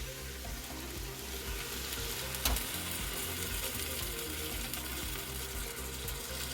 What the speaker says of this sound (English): now you deglaze with your wine